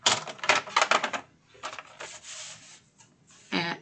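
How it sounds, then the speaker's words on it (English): Scissors snip through a piece of material for a large desktop organizer in a quick series of crisp close cuts, pausing briefly before a final burst of snipping. "I'm going to cut a piece"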